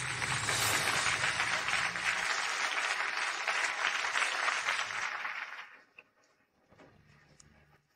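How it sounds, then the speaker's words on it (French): Wedding guests give the father of the bride a loud, dense round of clapping that holds steady for several seconds, then dies away into near quiet. "Applaudissons le père de la mariée."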